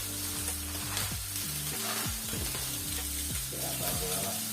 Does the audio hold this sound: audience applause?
no